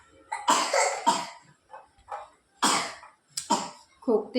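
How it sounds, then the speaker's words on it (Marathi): A girl coughs in several short, loud bursts spread across a few seconds, with brief gaps between them, close to the listener in a home kitchen. "खोकला आलाय तिला"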